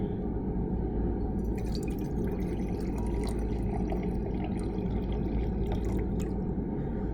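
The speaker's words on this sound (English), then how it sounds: "we'll fill it to about here for 200 mils with our room temperature water" Room temperature water runs steadily into a lab beaker, a continuous close pouring and splashing sound that holds at an even level throughout, with no talking.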